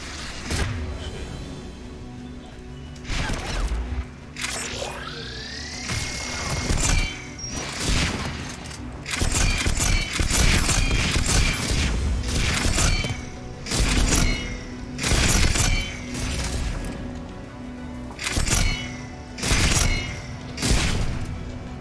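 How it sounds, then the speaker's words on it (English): Anti-aircraft guns in a video game fire in a long series of booming bursts in a fairly steady rhythm, loud and close, with mechanical whirs between volleys. "There, the anti-aircraft guns."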